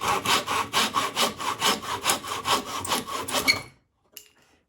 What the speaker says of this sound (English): We will lean the saw up against this top piece, and we're going to cut at a kind of an angle here and trim off